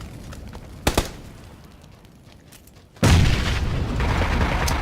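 In the battle-royale game PUBG on the Sanhok map, a sharp boom sounds early and then a louder, sustained blast rumbles in near the end, loud and close over quiet ambience.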